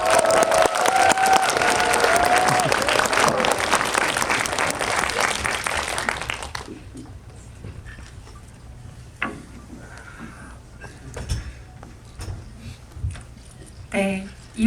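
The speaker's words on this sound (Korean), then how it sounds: "봉준호 감독님 입장하실 때 큰 박수로 맞이해 주시기 바랍니다" An audience at a film Q&A screening for Mickey 17 claps loudly and steadily to welcome director Bong Joon-ho, then the clapping fades out into quiet room noise with a few scattered sounds.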